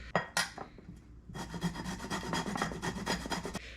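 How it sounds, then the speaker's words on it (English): Close, scratchy rasping of fresh ginger rubbed against a grater, a few short strokes followed by a run of quick rhythmic scrapes. "So now I'm gonna grate my ginger and put it in."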